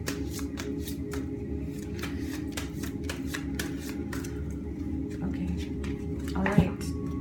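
Archangel Michael oracle cards shuffled by hand, a steady run of soft, rapid riffling flutters heard close over a constant low room hum, with a faint clatter near the end.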